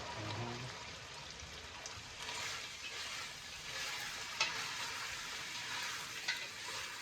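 Adobong tiyok, a Filipino braised dish, sizzles and bubbles in a pan on a home stove, a steady close frying hiss with a couple of brief clinks as it cooks.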